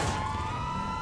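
A police car siren in GTA V Online wails steadily and fairly loud, a sustained electronic tone with no voices over it.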